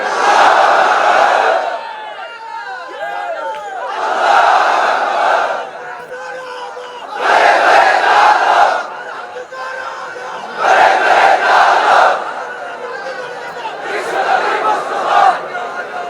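A large crowd at a religious sermon chanting takbir in unison, several loud roaring bursts of about a second or two each, repeated in a steady call-and-response rhythm with a lone voice between them.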